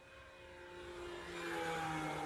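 A small FMS Pilatus PC-21 radio-controlled model plane, 1.1 m span, makes a full-speed pass, its electric motor whine climbing in pitch and growing louder as it approaches.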